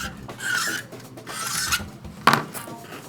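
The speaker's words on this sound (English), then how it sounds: "it's better with a scalpel that you make a couple of smooth motions back and forth" A scalpel blade scraping a plastic F-14A Tomcat model kit panel in several smooth back-and-forth strokes, close and raspy, with one sharper scrape near the end.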